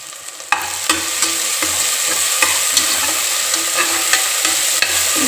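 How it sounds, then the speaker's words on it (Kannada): Tempering for a sprouted gram curry fries loudly in a pan, a strong continuous sizzle broken by regular scraping strokes of a stirring spoon, close up and without speech. "ಸ್ವಲ್ಪ ಒಗ್ಗರಣೆಯಲ್ಲಿ ಚೆನ್ನಾಗಿ ಫ್ರೈ ಆಗಲಿ"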